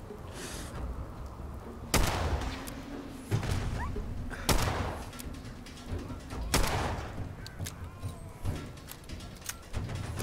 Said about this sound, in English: Someone's shooting a nuke somewhere.